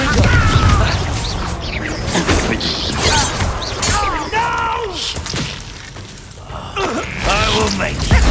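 Confringo blasting spell explosions in the video game Hogwarts Legacy, with booming crashes and thuds bursting out amid clanking combat effects, mixed with voices talking throughout.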